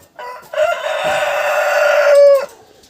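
Cochin hens and a rooster at a farm coop: soft clucking leads into one loud, sustained cock-a-doodle-doo crow lasting about two seconds, close and clear with no talking.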